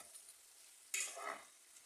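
Onions frying in a pan are stirred once, a short quiet scrape and sizzle rising out of near silence.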